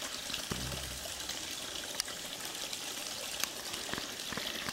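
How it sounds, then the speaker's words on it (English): Cold spring water runs beside a rocky mountain trail near Wittenberg Mountain, a steady close trickle and splash with a few faint clicks and no voices. "I just feel water here. I don't know, this is actually the spring, but the water is very cold"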